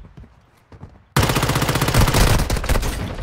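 Automatic weapon fire in Warzone Mobile erupts after a quiet second of faint movement, then holds as a loud, sustained rattle of rapid shots to the end.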